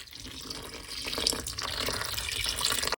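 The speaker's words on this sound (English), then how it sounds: "I'm going to add a cup of very hot water" A cup of very hot water pours into a bowl of no-bake strawberry lemonade cheesecake ingredients, a steady close splashing stream lasting a few seconds before stopping abruptly.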